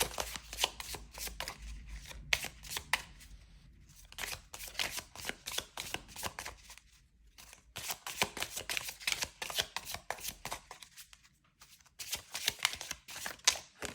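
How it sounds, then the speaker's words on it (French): Witch oracle cards are shuffled and drawn for a reading, giving a steady run of close, crisp riffling flicks and slaps with a few short pauses and no talk. "L'oracle de la sorcière. Et là, on va tirer 2 cartes."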